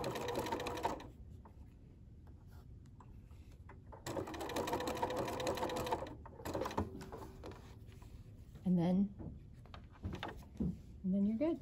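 A sewing machine runs in several bursts while stitching a quilt panel, switching back to a straight stitch and locking the stitches; steady mechanical whirring alternates with pauses, a person talking between the runs.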